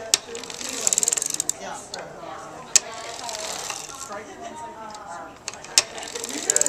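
Cranking a 1906 antique sock knitting machine yields soft mechanical ratcheting and clicking, with sharp metallic ticks and short rattling runs at irregular intervals, fairly quiet and close.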